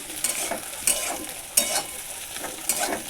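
Eggs frying in a pan over low heat for an egg, tomato and onion bhujia, with a steady sizzle broken by several sharp scraping stirs of a spatula, close and fairly loud.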